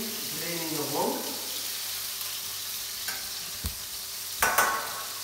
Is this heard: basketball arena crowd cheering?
no